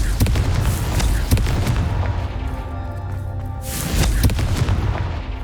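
Booming blasts from the Confringo spell in Hogwarts Legacy on PC, several sharp explosive cracks followed by rumbling, with a second heavy burst near the end.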